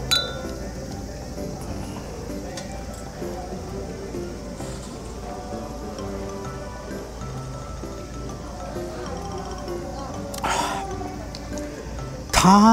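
Glasses clink in a beer toast at an outdoor summer night food festival with tents and a stage, a bright chink near the end over a steady bed of crowd murmur and ambient chatter.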